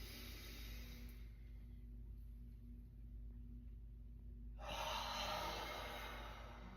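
Steady, deep inhale through the nose during a Hatha yoga breathing exercise, a soft airy rush lasting several seconds that swells louder and brighter toward the end, with no talking.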